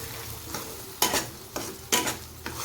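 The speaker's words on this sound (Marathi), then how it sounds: "मसाल्याला छान परतून घ्यायचा" Spice paste for a bitter gourd masala curry sizzles in a pan while a spoon scrapes and stirs it in several distinct strokes, close and fairly quiet.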